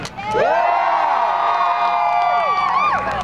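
Crowd at a medieval fair in Norman, Oklahoma cheering and whooping in response to a performer, a loud sustained swell of voices lasting a few seconds.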